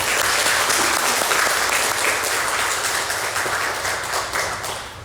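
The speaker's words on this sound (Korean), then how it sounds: "우리 하나님께 영광의 박수 올려드리면 어떨까요?" A church congregation applauds during a Sunday worship service, honoring the choir after a hymn. Loud, sustained clapping from many hands is heard up close, easing slightly near the end.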